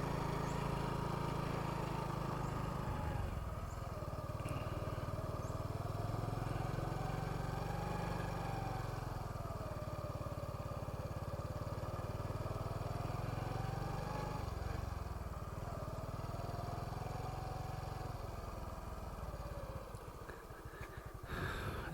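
A motorbike engine labouring in first gear up a steep hill road, a steady droning hum with slowly rising and falling revs, continuous and up close throughout.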